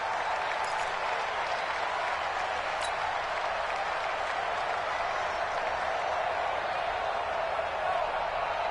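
A stadium crowd roars loudly and continuously in a PS4 American football game, a dense, unbroken wall of noise from the home crowd.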